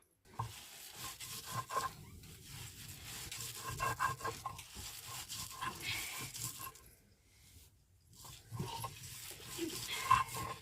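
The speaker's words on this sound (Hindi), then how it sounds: "तो हम अब मसाले के साथ इसको साथ में पीसेंगे बढ़िया तरीके से" Horse gram is ground with spices on a sil-batta grinding stone in rhythmic, gritty scraping and rubbing strokes. The sound is close and moderately quiet, with a short pause partway through and no talking.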